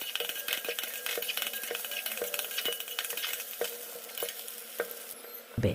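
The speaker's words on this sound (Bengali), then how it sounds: "তারপর ডিমগুলো ভেজে নিতে হবে" Eggs frying in oil in a pan for an egg tadka, giving a steady sizzle with repeated sharp taps and scrapes of a utensil against the pan. No voices.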